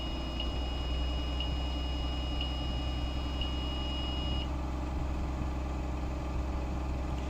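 A passenger bus engine runs at steady raised revs to build air pressure, a loud continuous drone throughout, with a faint repeating warning beep in the cab for the first several seconds before it stops.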